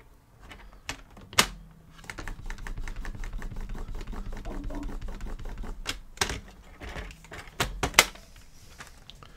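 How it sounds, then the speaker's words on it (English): Scoring tool drawn across paper card for a pop-up card, giving soft scraping strokes broken by several sharp taps and clicks, close and quiet with no talk. "grab your scorer, and go through, and then do the opposite one on the opposite side"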